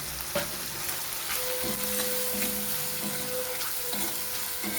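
Tomato frying in a pan with turmeric, salt, cumin, coriander and sugar, a steady close sizzle with occasional scraping stirs and a faint running-water hiss behind it, no voices.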